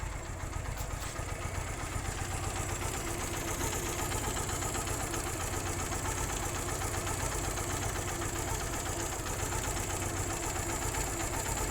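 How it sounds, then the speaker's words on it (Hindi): A Suzuki GR150 motorcycle engine idles steadily around 1500 RPM during idle speed and air-fuel mixture adjustment, a close, even mechanical chatter with rapid ticking that holds constant throughout without talk. "इस स्क्रू से आपने इसके आइडल आरपीएम एडजस्ट कर लेने हैं।"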